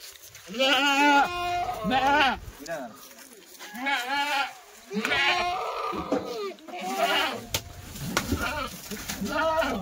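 Kathiawari goats loaded on a vehicle at a sale bleat loudly and close by, one wavering cry after another in a steady overlapping run, with people talking over them.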